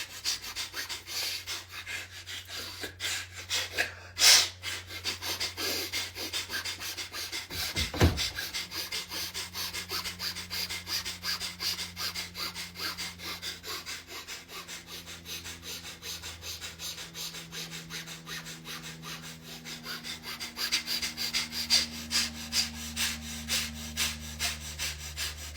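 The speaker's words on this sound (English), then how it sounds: "Keep breathing, guys." Several people breathe together during a guided breathing exercise, with slow audible inhales, exhales and sniffs at close range over a faint steady background, and no talking.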